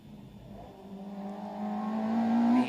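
A Peugeot 106 GTI race car on a nearly dry track approaches with a steady engine drone that rises in pitch and grows louder as it accelerates closer.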